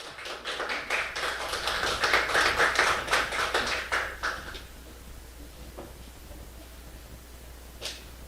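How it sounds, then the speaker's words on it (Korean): A church congregation in Mokpo claps to welcome the pastor. The applause is dense and steady, builds for about four seconds, then fades to near quiet, with a single stray clap near the end. "우리 박수로 한번 환영하겠습니다."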